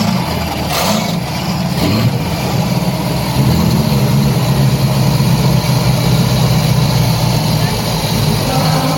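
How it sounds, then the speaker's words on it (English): An outboard boat engine runs continuously with a steady low rumbling drone, close and fairly loud, with some brief knocks early on. "this is the outboard."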